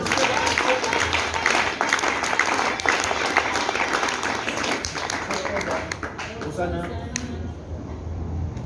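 A church congregation applauding during worship, dense sustained clapping from a crowd with voices mixed in, loud and close, thinning toward the end.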